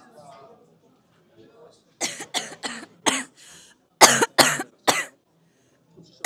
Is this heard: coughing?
yes